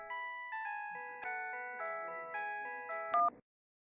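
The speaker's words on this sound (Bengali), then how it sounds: "ও এই সময় আবার কার ফোন?" A phone ringtone plays a bright, repeating electronic melody in short looping phrases for about three seconds, then cuts off abruptly into silence, heard alone in an indoor home setting.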